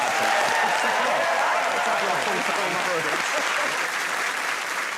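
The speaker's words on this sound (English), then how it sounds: "Give him a round of applause." Sustained, dense applause from a studio audience at a comedy quiz show, loud and steady across the whole stretch with no breaks, easing only slightly near the end.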